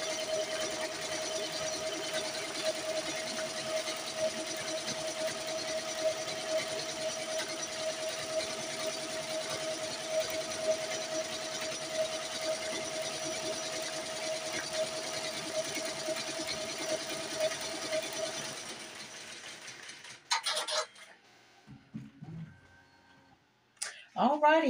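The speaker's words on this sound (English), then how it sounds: "so we're winding to the last few stitches and the stitch out" A BAi Mirror 1501 embroidery machine stitches a design onto a car mat with a steady, continuous mechanical hum and rapid needle chatter, then winds down and stops, followed by a few handling knocks.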